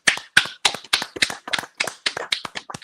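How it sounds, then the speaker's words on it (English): A small group of hosts on a football post-game show clap together on cue, a dozen quick, sharp hand claps in a steady rhythm, close and alone with no talking. "Clap it up real quick, chat."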